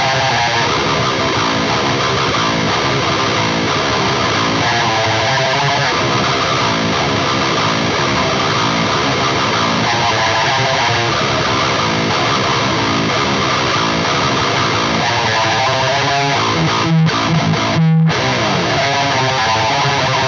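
A Solar T2.7LN+ electric guitar played through a Neural DSP SLO100 amp plugin gives a loud, continuous distorted high-gain tone with dense chugging and sustained notes, ending in a few abrupt stops near the close.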